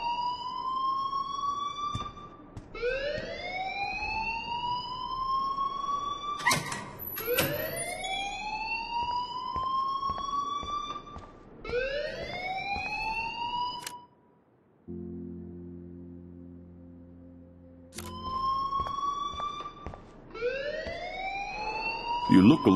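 Rising, whooping alarm siren in the game Life is Strange, sounding in repeated loud sweeps with a brief low-pitched pause midway before the wail resumes.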